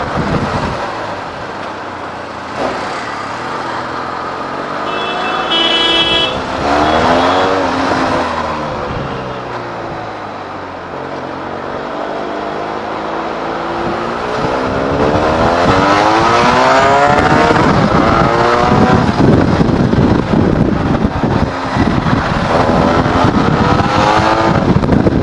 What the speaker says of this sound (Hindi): So this is the exhaust note of our Benelli TRK